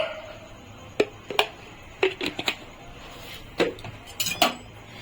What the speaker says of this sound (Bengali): আমি একটা কড়া বসিয়েছি এখন আমি এর ভিতরে এক চামচ ঘি দিয়ে দিচ্ছি